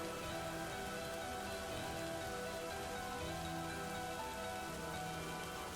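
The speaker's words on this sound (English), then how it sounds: "The sound of rain makes me have to use the washroom." Steady rain falls on surfaces in a constant dense patter, even and unbroken throughout, with no voices over it.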